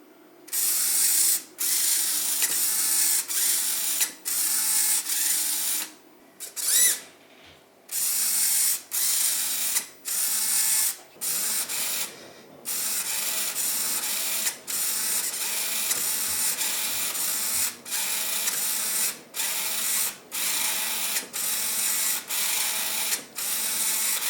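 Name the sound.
RC servo motor with extended arm moving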